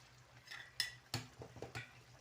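Eggs for white egg korma being tossed and stirred in a pot, a handful of separate clinks and scrapes of a spoon against metal, quiet and spaced apart.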